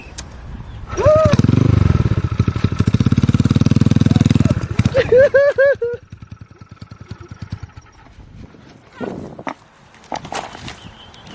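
Motorcycle engine revs up loudly for a few seconds, then putters and cuts out, followed by scattered knocks and shuffling; a voice is briefly heard near the end.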